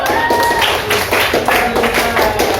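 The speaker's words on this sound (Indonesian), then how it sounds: "Beri aplaus dong buat temennya" Classmates applaud a student presentation in a classroom, a close, steady patter of clapping hands that carries on evenly throughout.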